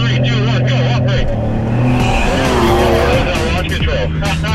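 A Porsche 911 launches hard with launch control, its loud engine roaring and climbing steadily with tire squeal, while people talk over it.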